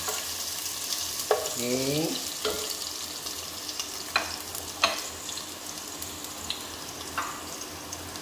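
Chopped onion and garlic sizzle in a preheated pan while being stirred, with repeated sharp utensil scrapes and clanks over a soft, continuous frying hiss; a voice speaks briefly once.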